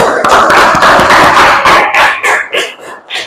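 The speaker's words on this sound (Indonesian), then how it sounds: "tepuk tangan untuk kelompok" Classroom applause for a group's presentation during a teacher performance assessment, a dense crowd of hands clapping steadily, loud and close, then thinning into scattered claps toward the end.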